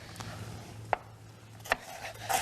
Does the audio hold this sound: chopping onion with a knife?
yes